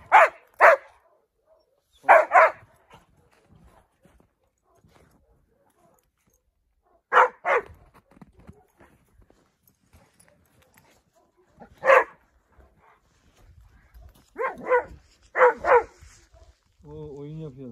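A Dogo Argentino dog barks in scattered pairs and bursts while playing on a field, loud close woofs separated by quiet gaps, ending with a brief whine.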